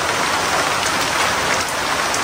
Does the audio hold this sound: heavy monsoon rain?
yes